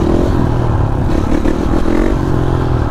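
A supermoto motorcycle holds a wheelie on city streets, its engine revving loud and close in a sustained buzzing drone with slight rises and dips in pitch.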